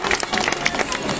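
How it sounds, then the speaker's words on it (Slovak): A crowd claps and cheers for a boy and his family at the MAXRUN 2022 charity run in Žilina, with dense, steady applause and some voices mixed in throughout. "jeden veľký potlesk pre Ryška a jeho maminu a jeho celú rodinu"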